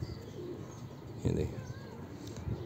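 A domestic pigeon gives a low, soft cooing close by, with one fuller coo in the middle and faint murmurs around it, while a voice talks quietly over parts of it.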